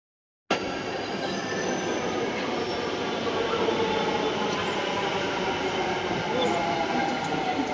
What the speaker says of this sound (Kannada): ಇವಾಗ ಬರ್ತಾ ಇದೆಯಲ್ಲ ಟ್ರೈನು ಇದೇ ಟ್ರೈನು